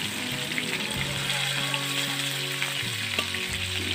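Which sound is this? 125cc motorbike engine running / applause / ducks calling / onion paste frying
onion paste frying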